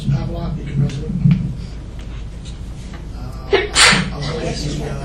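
A single sharp sneeze bursts out near the end at a board of education meeting, loud and close, following murmured talk and room noise.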